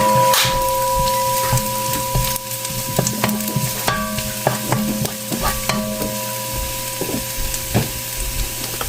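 Garlic fries to golden brown in a pan, a loud close sizzle with repeated wooden scraping and clacking stirs, plus a steady tonal hum running underneath.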